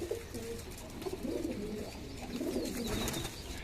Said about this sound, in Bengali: এই যে বন্ধুর বাড়ির সাপচিলা কবুতর